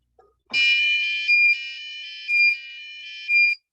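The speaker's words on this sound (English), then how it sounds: "There's going to be a little alarm for this," An electronic flood-level alarm on a cargo sensor system sounds steadily, a high continuous tone with three louder beeping pulses spaced across it, clear and alone.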